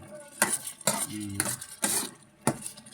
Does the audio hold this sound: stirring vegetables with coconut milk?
yes